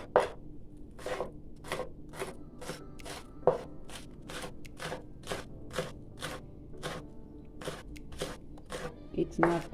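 Scallions minced with a knife on a cutting board, a steady run of crisp, evenly spaced chops, close and clear, with faint background sound and no speech.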